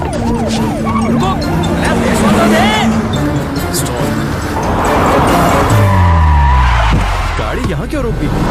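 A car skids and screeches to a halt during a chase in the Hindi-dubbed Allu Arjun action film Khiladi, its loud tire squeal sliding down in pitch near the end, layered over dramatic music and talk.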